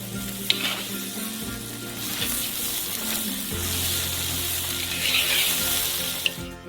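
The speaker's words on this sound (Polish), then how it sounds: "I smażymy go na sucho przez kilka minut." Three kilograms of rice dry-frying in a pot, with a loud, constant sizzle and occasional scraping and stirring, up close and without talking.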